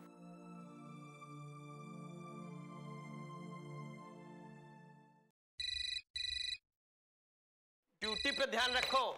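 An electronic telephone ringtone sounds in two short bursts after a sustained tone fades, followed by a brief warbling electronic trill.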